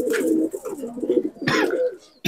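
Several Punjabi Malwai pigeons coo in a loft, low throaty rolling calls overlapping steadily with a few brighter flutters and rustles, fairly close and continuous.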